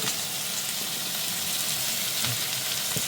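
Ginger, garlic and green chili fry in a pan, giving a loud, continuous close-up sizzle with faint stirring scrapes and no voices.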